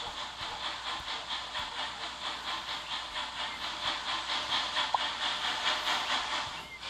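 A steam locomotive hisses steadily in a train video game, a continuous loud broadband rush with a faint rhythmic pulsing throughout.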